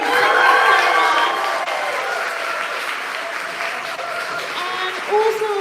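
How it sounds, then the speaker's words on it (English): A crowd gives a loud, sustained round of applause for a choir conductor at a West End musical choir session, dense clapping that stays strong throughout with faint voices beneath it. "Can we have a massive round of applause for James, please?"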